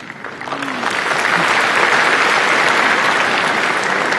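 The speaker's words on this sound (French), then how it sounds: "nous pouvons applaudir" Loud applause from a crowd during a prime minister's speech, starting thinner and swelling within the first second into a dense, sustained roar of clapping that holds steady to the end.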